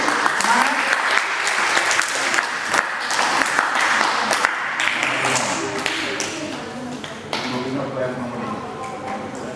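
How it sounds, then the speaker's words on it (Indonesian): An audience at a primary-school quiz contest held at a Buddhist temple claps for a contestant, a dense sustained burst of applause that fades slightly toward the end, with faint voices underneath. "Tepuk tangan dulu untuk Rumi."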